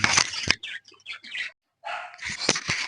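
A Gaddi dog barks repeatedly in short, loud bursts close by, with birds chirping faintly around it.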